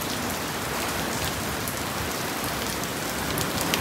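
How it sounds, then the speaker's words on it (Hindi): Heavy rain pouring down in a storm, a dense, even hiss of drops pattering on surfaces, loud and continuous with no voices over it. "अभी तो बड़ी ज़ोर की बारिश हो रही है।"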